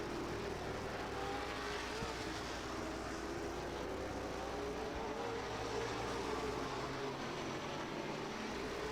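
SRL modified race cars circle Irwindale Speedway, a continuous distant engine drone that holds steady with no clear pass-by, a constant hum under open-air ambience.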